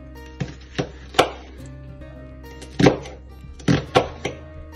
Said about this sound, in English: not cutting all the way through to the edge so that the onion can stay together, and then just cutting it into fine chunks